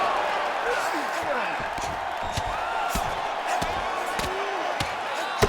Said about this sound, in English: the crowd continues to react with every passing land